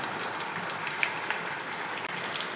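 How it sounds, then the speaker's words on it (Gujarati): Steady hiss of rain falling outdoors, a soft, even wash of fine drops with a few faint clicks, with no talking. "કેટલાય દિવસથી કહું પણ આજ ફાઇનલી વરસાદ આવી ગયો."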